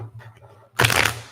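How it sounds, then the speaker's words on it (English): A deck of playing cards riffled in one quick, crisp shuffle that flutters for about half a second after a quiet start, close to the mic. "Let's give this deck a shuffle here."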